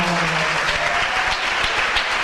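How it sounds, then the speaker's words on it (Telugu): Congregation clapping hands together in a church service, a dense steady wash of applause from many people sustained throughout, fairly loud and close with no talk over it. "చప్పట్లు కొట్టి"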